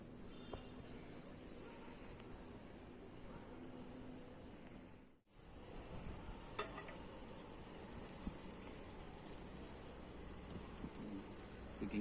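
Butter sizzling on fish grilled over hot coals, a steady fine crackling hiss that runs throughout, briefly dropping out midway before resuming with a few sharper pops.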